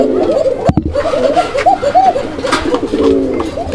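Pigeons at a pigeon farm coo loudly and close, repeated rolling coos from several birds overlapping, with a sharp knock near the start.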